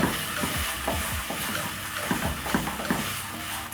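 Tomato paste is stirred into osso buco in a pan, with a spoon scraping and clicking repeatedly over a steady, close sizzle and no talking.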